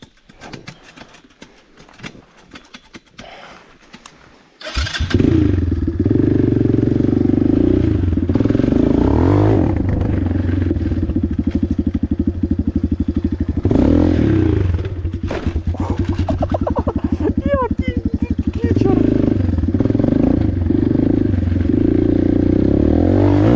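A motorbike engine starts after a few seconds of rattling, then idles and revs loudly and steadily close by.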